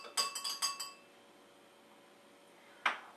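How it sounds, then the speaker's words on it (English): A spoon clinks against a glass a few times while stirring Kahlúa and liquors for a Tall Black Russian, quick light chimes followed by a pause and one final clink. "the last step would be just to stir the liquors together"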